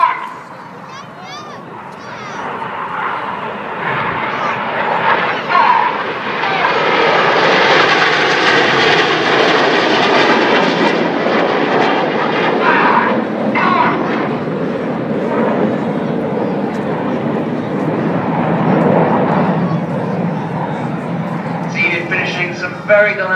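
Red Arrows jets roar past at a Farnborough airshow while flying rollbacks, the engine noise swelling to a loud, sustained rumble and then fading, with a commentator talking over it.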